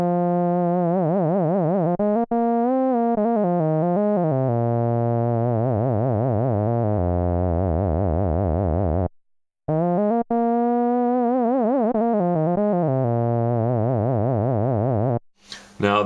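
Dreadbox Erebus analog synth with its LFO routed to the pitch of both oscillators, giving a loud, continuously warbling, vibrato-swept drone in repeated phrases, with brief gaps and changing modulation speed.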